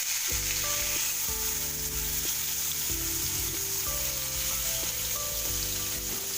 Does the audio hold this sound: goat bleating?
no